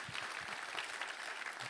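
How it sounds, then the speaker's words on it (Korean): A church congregation claps together in thanks and praise to God during a Good Friday-style service, a steady, dense wash of applause filling the room for a couple of seconds with a few low thumps underneath. "우리를 위해 독생자를 내어주신 우리 하나님께 우리 감사와 영광의 박수 올려드리겠습니다"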